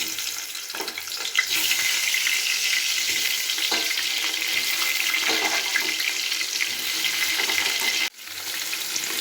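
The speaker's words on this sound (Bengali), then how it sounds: "এবার আমি পটলগুলো খুব ভালো করে ভেজে নেব" Pointed gourd (potol) fries in hot mustard oil. A steady, loud sizzling hiss holds throughout, with a brief clank of a utensil near the end.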